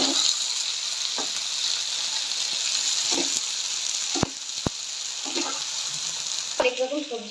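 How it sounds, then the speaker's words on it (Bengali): Black cumin seeds crackling in hot oil for tempering, a steady close sizzle running throughout with a few sharp pops and clicks of a utensil, no voices over it. "তেল দিয়ে দিলাম, ফোড়নে দিয়ে দিলাম কালো জিরে।"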